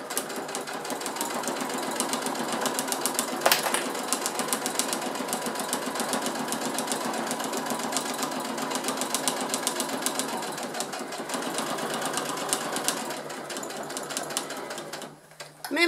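A sewing machine runs steadily for about fifteen seconds stitching along the edge of a fabric multi-pocket pouch, a continuous close whirring hum with a brief pause near the end and no talk.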